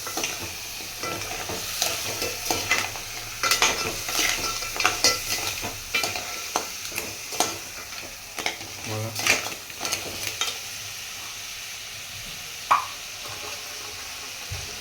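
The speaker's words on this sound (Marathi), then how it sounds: "तर खेकड्या आता आपण मिक्स करणार त्याच्यात पूर्ण मसाल्यामध्ये" Sea crabs are stirred into a frying masala in a pan, with repeated scraping and clattering stirs over a low, steady sizzle, with no talking.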